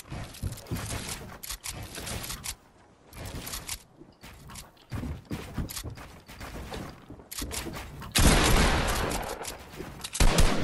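Shotgun blasts and other gunfire ring out in a fast-paced shooting video game, coming in loud repeated bursts separated by short gaps, ending in a dense sustained roar of shots.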